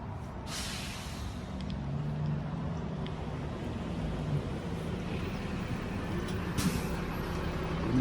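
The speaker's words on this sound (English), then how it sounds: "You see the bus coming?" A city bus rolls up along a street, its low engine rumble building steadily and ending in a brief air-brake hiss, heard from the roadside with no talking.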